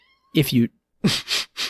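A house cat gives a close, clear two-part meow, and a voice then starts talking right after it.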